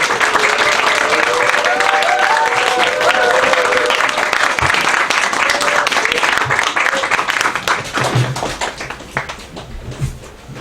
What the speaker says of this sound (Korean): 우리 큰 목소리로 환영하고 박수로 격려하도록 하겠습니다